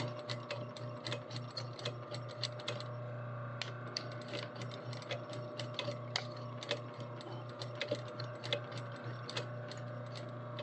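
A sewing machine runs steadily through long stitches while a bobbin is nearly spent, its needle mechanism clattering in a fast, even rhythm with a low motor hum underneath, close and alone without talk.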